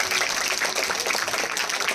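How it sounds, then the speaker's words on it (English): A big round of applause from an audience at a school cultural event, dense, steady crowd clapping that fills the whole moment at a fairly loud, even level without a break. "I would request all of you to give a big round of applause for them."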